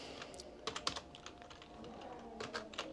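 Close computer keyboard typing in quick irregular bursts of clicks and taps as a prompt is entered into ChatGPT, with brief pauses between runs of keystrokes and no voices.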